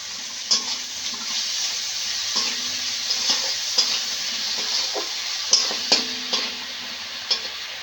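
Onion and tomato fry in a pan with a constant close sizzle, while a spatula strikes and stirs in irregular clacks every second or so.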